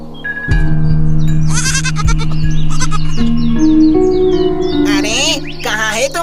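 A goat kid caught in a hunter's net bleats repeatedly in an animated story, with loud, quavering cries over a sustained music bed and scattered bird chirps.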